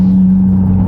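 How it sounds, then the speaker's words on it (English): A Stage 3 VW Scirocco engine at a drag strip drones loud and close with a steady low hum, carrying the odd noise it has developed, in a brief burst with no talk. "The car has sounded increasingly funny."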